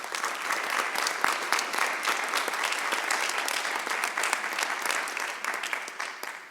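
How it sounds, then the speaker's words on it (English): An audience at an annual electors meeting gives the board members a round of applause, a steady, even wash of many hands clapping that holds throughout and fades slightly at the close. "please join me in just a round of applause and expressing appreciation to all of our board members."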